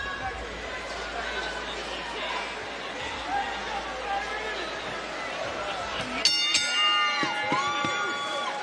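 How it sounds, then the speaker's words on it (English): Boxing arena crowd in a frenzy, a dense roaring wash of cheering and chatter throughout, with a ringing tone and an announcer's amplified voice joining toward the end. "The crowd still in an absolute frenzy here"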